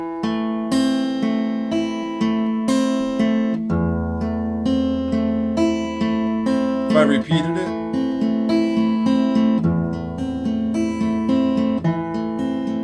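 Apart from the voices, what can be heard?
classical guitar playing Giuliani Allegro, measures 13 and 14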